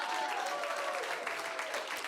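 A comedy audience gives a short, lukewarm round of clapping, a moderate patter of hands that stays fairly even for about two seconds with a faint voice underneath.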